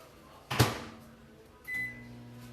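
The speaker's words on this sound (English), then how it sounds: "So in the microwave for 2 minutes" A microwave oven heating chilaquiles for breakfast: a sharp clunk of the door or button, then the low steady hum of the oven starting up, alone and fairly close.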